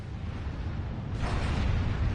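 A missile launch explosion in the video game Armored Core 6, a dense roaring rumble that swells louder and brighter partway through, continuous and heavy with no voices over it.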